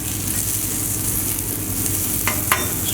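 Scrambled eggs cooking on a Blackstone flat-top griddle give a loud, steady close sizzle, with a couple of brief sharp scrapes near the end.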